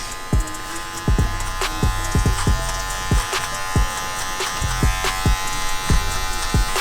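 Electric hair clippers fading down a haircut give a loud, steady close-up buzz, broken by repeated sharp clicks and taps as the blade moves across the head.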